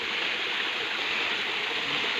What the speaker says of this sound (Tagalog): May sapa na daanan dito.